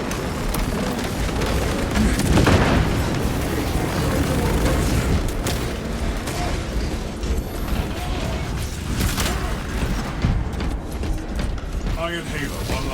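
A crack grenade detonates in the Warhammer 40k Space Marine 2 video game, a dull boom early on inside a dense, continuous mix of mechanical clanks, gunfire-like crackle and rumbling battle noise.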